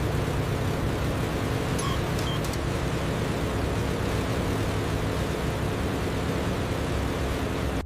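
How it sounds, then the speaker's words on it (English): WWII-era US propeller planes roar overhead above Serbian mountains, a loud, dense, unbroken engine drone that stays constant throughout. "The U.S. planes roar over the Serbian mountains."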